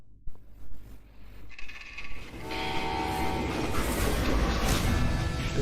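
A train in the video game Call of Juarez: Gunslinger starts with a quiet, uneven rumble, then swells into a loud, continuous roar of rolling wagons with horn-like tones held over it to the end.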